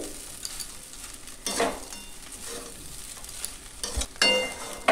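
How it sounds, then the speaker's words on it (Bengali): Paneer poha being stirred with a spoonful of sugar in a hot pan, a steady soft sizzle with scraping stirs and a few louder clatters of the spoon against the pan, no voices. "চিনিটাকে দিয়ে ভালো করে আমি নেড়ে চেড়ে নেব।"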